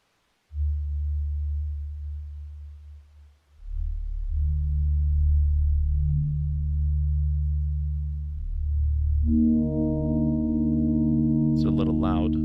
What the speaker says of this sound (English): the music starts playing to indicate the turnover of the day